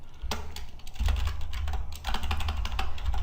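Fingers type on a computer keyboard, close and fairly loud, with a quick uneven run of key clicks and a few brief pauses, and no voices.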